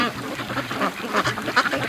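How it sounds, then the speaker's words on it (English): Free range ducks on an icy pond quack in a busy, overlapping chorus of repeated nasal calls, fairly close and steady throughout, with no talking. "I see the ducks playing in the water"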